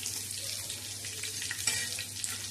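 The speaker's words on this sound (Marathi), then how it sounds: "असा हा छान असा तडका जिऱ्याचा आणि लसणाचा द्यायचा" Cumin and garlic tempering sizzling on a blackened griddle used for millet flatbreads, a close, steady frying hiss with faint stirring clinks, no voices.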